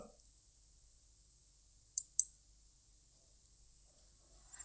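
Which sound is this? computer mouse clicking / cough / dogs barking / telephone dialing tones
computer mouse clicking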